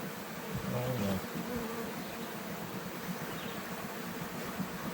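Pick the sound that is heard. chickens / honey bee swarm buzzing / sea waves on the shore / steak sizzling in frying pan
honey bee swarm buzzing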